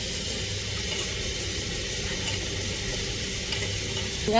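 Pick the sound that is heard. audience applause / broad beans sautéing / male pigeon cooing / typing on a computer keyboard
broad beans sautéing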